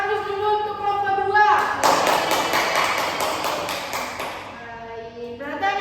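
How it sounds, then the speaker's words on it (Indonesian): Schoolchildren clap together in an elementary school classroom for group 2. The applause is a steady, moderately loud patter lasting a few seconds, with a teacher's voice just before and after. "Kita berikan aplaus dulu untuk kelompok 2."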